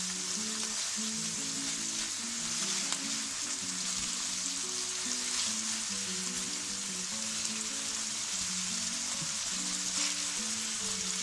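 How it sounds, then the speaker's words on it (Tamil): Chicken pieces frying in a pan for a mango chicken curry, a soft, even, continuous sizzle and crackle like light rain, heard close but fairly quiet, with faint background music and no talking. "பார்த்தீங்களா சிக்கனு ஒரு சைடு கொஞ்சம் ரோஸ்ட் ஆகிடுது, அதே மாதிரி நம்ம அடுத்த சைடு திருப்பி போட்டுட்டு கொஞ்சம் ரோஸ்ட் பண்ணிடலாம்"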